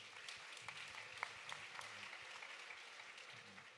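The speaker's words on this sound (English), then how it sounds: "let's first hear a big round of applause for these creators" Audience applause for creators at an e-commerce festival event, a steady wash of many hands clapping at a distance, fairly faint and even throughout, with a faint low murmur beneath.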